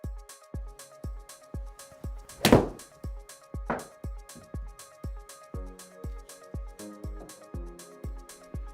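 A golf ball is struck into a Golfzon Vision simulator, giving one sharp loud whack followed by a softer thud, over a steady background of rhythmic mechanical thumps.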